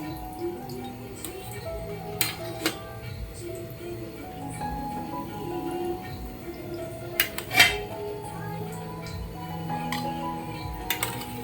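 Steamed patolya wrapped in turmeric leaves are moved into a serving dish, with scattered clinks and taps of utensils and dishes in a home kitchen under ongoing chatter.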